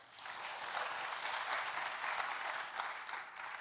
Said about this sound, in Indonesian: Yang mau berikan tepuk tangan bagi Tuhan.